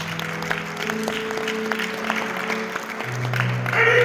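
A church congregation applauding to acclaim the Lord, steady moderate clapping with sustained musical tones underneath.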